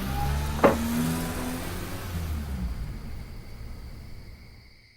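A car pulls away: a sharp door-like clunk is followed by a low engine rumble that fades steadily as the vehicle drives off into the distance.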